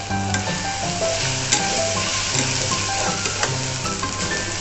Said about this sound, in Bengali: এইবার এগুলোকে ভালো করে ভাজা হবে।